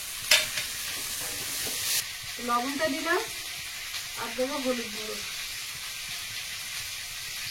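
Onion, garlic, tomato and green chilli fry in oil with a steady, soft sizzle while someone speaks over it in brief phrases.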